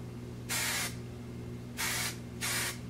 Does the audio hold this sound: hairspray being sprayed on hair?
yes